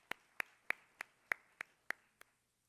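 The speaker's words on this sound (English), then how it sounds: "give him a round of applause" A handful of sharp, evenly spaced hand claps, about eight, ring out quietly in a large gathering to welcome a new AV coordinator, fading after the last clap with no talking over them.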